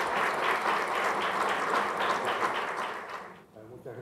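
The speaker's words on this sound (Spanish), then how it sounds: "nos despedimos con un fuerte aplauso" Audience applause closes the presentation of the second Buenos Aires ePrix 2016 Formula E race, with dense, loud clapping for about three seconds before it thins out and fades.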